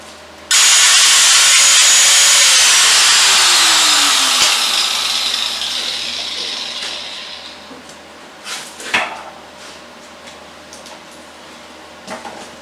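A power cutting tool slices through a 2-inch scrap metal piece for a homemade BBQ griddle, a loud, bright grinding screech starting suddenly and lasting about seven seconds before spinning down, followed by a few clanks of metal being handled.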